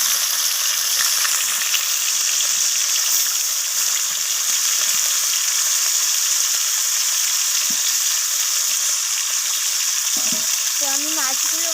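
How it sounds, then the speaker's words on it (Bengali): Amudi fish frying in hot oil in a kadai, a loud continuous sizzle that stays close and even throughout, with a short voice briefly heard near the end. "তেলটা গরম হয়ে যাওয়ার পর আমি মাছগুলোকে তেলের মধ্যে ছেড়ে দিলাম"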